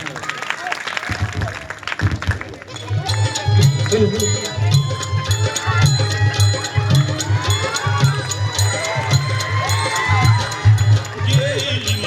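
An audience claps and cheers to welcome performers at a stage show: dense, sustained applause rises after a brief lull and continues loud and steady, with crowd shouts and voices mixed in.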